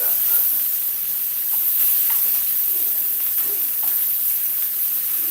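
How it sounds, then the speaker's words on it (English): Bratwurst and onions fry on a very hot stove top, giving a steady, close, unbroken sizzle and hiss with faint crackles throughout, no talking. "This is a really, really strong stove top, so we're going to let this simmer for a minute."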